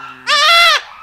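A newborn goat kid lets out a single short, loud, close bleat in a goat birthing pen.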